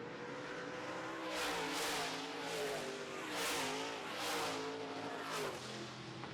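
Modified race cars roar past one after another on an oval track, engines rising and fading in repeated waves, loud and continuous.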